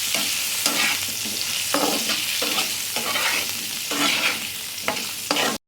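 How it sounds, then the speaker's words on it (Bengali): Potatoes fried lightly in a pan with a little salt and turmeric: a loud, continuous close sizzle fills the clip while a utensil scrapes and stirs in repeated strokes, with no voices. "মিশিয়ে হালকা করে আলুটাকে ভেজে নেব।"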